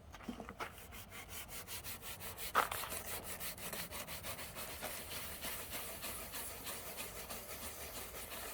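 Steady rhythmic rubbing of baking soda and lemon paste against a plastic car headlight lens to smooth a rough, hazy spot, a close, even scrubbing stroke repeating throughout.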